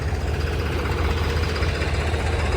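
A parked row of tractors idles nearby, a continuous low diesel chug with an even, knocking pulse and no pauses or voices.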